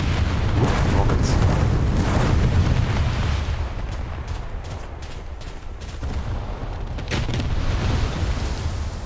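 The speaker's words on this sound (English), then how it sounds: "Ooh, rockets." Rocket explosions in a naval battle video game, a dense run of booms and blasts rolling over a continuous low rumble, with several sharp bursts later on.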